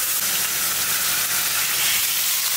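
Curry with vegetable stems simmering and frying in a pan, giving a steady close sizzling hiss that stays even throughout with no voices.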